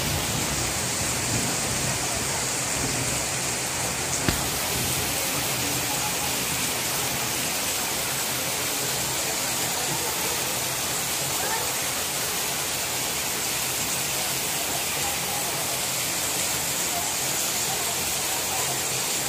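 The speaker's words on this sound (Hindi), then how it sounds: "अचानक से यहाँ पे बहुत ज़ोर से जो है बारिश हो रही है भोपाल में" Heavy rain pours steadily and loudly in Bhopal, India, a dense unbroken hiss with no pauses.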